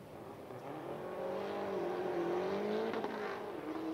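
Two dually pickups, a GMC and a Duramax Chevy, drag race at a speedway spectator drags event, engines droning and rising in a steady loud roar that swells toward the middle and holds.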